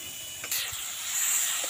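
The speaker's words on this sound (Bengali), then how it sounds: "এটা 5 মিনিটের মতো একটু ভাজলে পরেই কিন্তু হবে, বেশি ভাজতে লাগবে না" Tomato and chilli sizzle in a hot frying pan, a soft steady hiss that swells slightly with a brief crackle, close and alone without speech.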